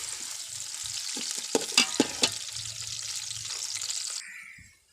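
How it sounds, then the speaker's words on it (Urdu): Onions frying in a pan until golden brown, with a steady close sizzle and a few sharp clacks of stirring before the sizzle cuts off abruptly near the end. "گولڈن براؤن ہونے تک ان کو بھون لیں گے۔"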